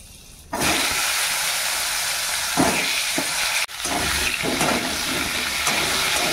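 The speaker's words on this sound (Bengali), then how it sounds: "জিরে আর কালো জিরে ফোড়ন দিয়েছি তেলের মধ্যে।" Cumin and black cumin seeds hit hot oil with an abrupt, loud, hissing sizzle that starts after a short quiet moment and carries on steadily, briefly dipping midway, with no speech.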